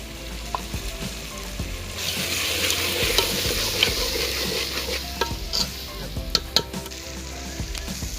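Chavanu, a savory snack mix, is stirred into a whole-garlic curry in a sizzling pan. A spoon scrapes and clinks over a steady frying hiss, close and moderately loud, with no talk.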